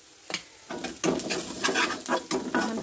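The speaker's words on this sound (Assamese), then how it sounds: "তেল গৰম হৈ গ'ল, এতিয়া দিম ইয়াত হেৰিখিনি, এইখিনিতে অকণমান ভালদৰে ভাজি ল'ম" Spices and turmeric frying in hot oil in a pan for a dry fish recipe, with steady sizzling and bursts of stirring scrapes at irregular intervals, close and moderately loud with no talking.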